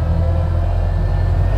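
The engine of a 1929 Ford Model A roadster runs close and steady while gears are shifted, a low, loud, even rumble with no voices over it.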